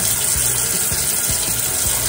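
Tap water runs steadily into a sink to make soapy dishwater for Palmolive Ultra Lavender & Lime dish liquid, a continuous close splashing stream with no voices.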